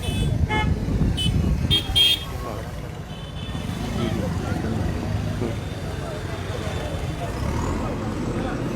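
A Jammu Municipal Corporation vehicle moves off along a market street, its horn tooting in short bursts early on before a steady engine rumble takes over, with people talking nearby.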